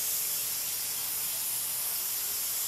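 A VEDA WD 180 airbrush sprays solvent-based paint with a steady, close, airy hiss that continues without break.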